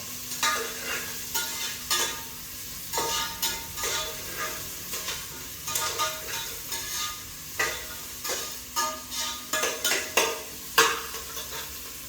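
Tomatoes frying in a pan for bisi bele bath, with a steady sizzle under repeated scraping stirs of a metal spoon against the pot, close and rhythmic.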